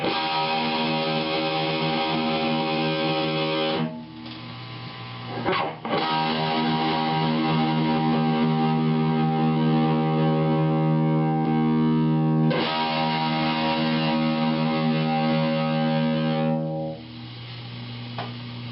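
Distorted electric guitar through an amp, toggled several times with a BBE 462 Sonic Maximizer switched in and out, strummed chords ringing loud and steady with brief breaks where the tone changes.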